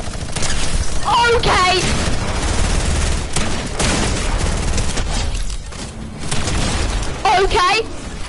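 Rapid bursts of pulse rifle fire in a first-person shooter video game, loud and dense, with a voice briefly exclaiming over the shooting.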